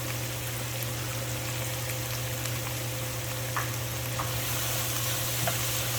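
Julienned vegetables sizzle steadily in a hot pan as they cook down for buffalo ranch sliders, a constant close frying hiss with a few faint clicks and no talking.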